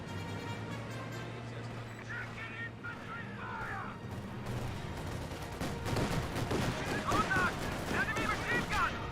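Soviet incendiary artillery barrage in Company of Heroes 2, a game battle with booming shell impacts and crackling fire that build louder and denser over the second half, alongside a steady low battlefield rumble.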